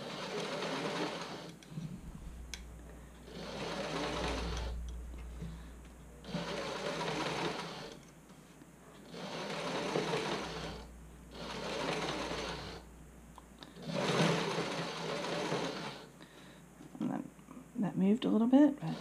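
A home sewing machine stitches slippery fabric for a bra fitting sample in regular bursts of steady whirring, each lasting a couple of seconds with brief pauses between, while someone talks over it.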